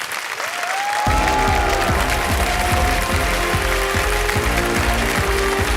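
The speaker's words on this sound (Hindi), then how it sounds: "Come big hand for Vaishnavi ji." A crowd gives Vaishnavi a big hand at a stage event: loud, dense clapping swells in after about a second and carries on steadily, with music playing underneath throughout.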